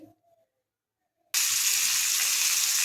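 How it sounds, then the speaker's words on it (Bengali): Fish head dropped into hot oil in a wok bursts into a loud, steady sizzle after a second of near silence, crackling continuously to the end. "মাছের মাথা ভাজা চলছে"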